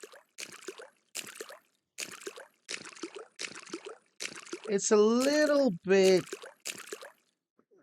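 Repeated watery splashing footsteps, a steady walking rhythm of about eight evenly spaced steps, from a footstep effect for water surfaces in Unreal Engine 5, with a brief tonal voice-like sound in the middle and a short spoken phrase over it.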